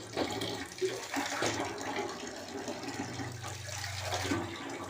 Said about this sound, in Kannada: ನಮ್ಮನೆ ಗರಂ ಬರ್ತಿದೆ ನೀರು.